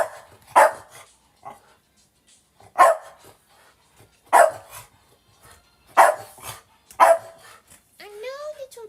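A small dog barks five times in sharp, separate yaps spaced about a second or more apart, close and loud, with quiet stretches between barks and a whiny yip near the end.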